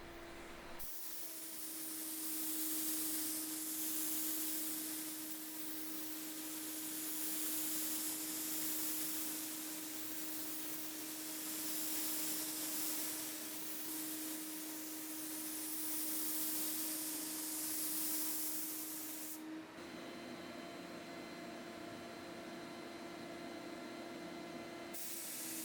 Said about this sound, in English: I really don't want to use my good spray guns for this lacquer